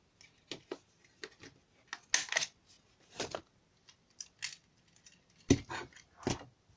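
Scissors snip out a new paper star for a Christmas tree decoration in a series of short, close, quiet cuts and rustles, with pauses between them.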